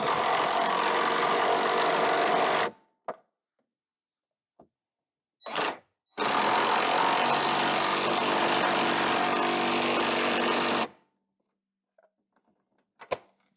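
Impact wrench torquing down the mounting brackets of new rear leaf springs, with two long loud bursts of several seconds each, separated and followed by short clicks, brief rattles and near silence.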